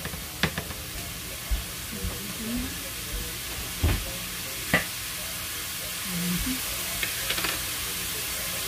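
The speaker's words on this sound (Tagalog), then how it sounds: "konti-konti nating ipa-brown, guys, ang making brown or ground beef" Ground beef browns in a home-kitchen pan with a soft, low sizzle, broken by several sharp scrapes and clacks of a utensil stirring against the pan at irregular moments.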